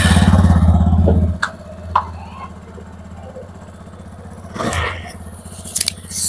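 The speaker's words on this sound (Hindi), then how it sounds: "एक बार आपको बाइक को स्टार्ट करके दिखा देते हैं," A TVS motorcycle engine just treated with Castrol engine flush runs with a deep, throbbing rumble for about a second, then cuts out, leaving a few sharp mechanical clicks and a brief whoosh over a quiet background.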